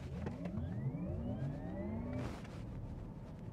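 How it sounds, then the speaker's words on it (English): An electric Porsche Taycan 4S launches hard from a standstill, its rising motor whine climbing steadily in pitch over a dense roar of tire and wind noise, then a whoosh as the pitch drops. "Just put my foot on the gas."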